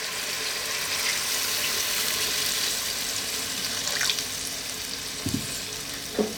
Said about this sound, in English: We're now going to add some water to that.